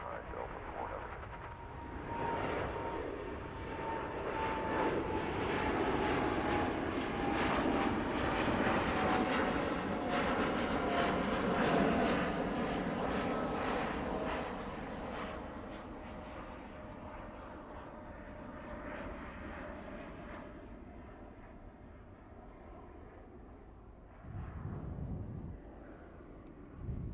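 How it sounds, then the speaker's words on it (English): A colourful Kenya Airways Boeing 787 Dreamliner rolls for takeoff on Heathrow's runway 09 right in the evening, a loud broadband jet engine roar swelling over about ten seconds and then slowly fading into the distance, with a whining tone drifting across it. "Super colourful Kenya Airways Dreamliner. Rolling now."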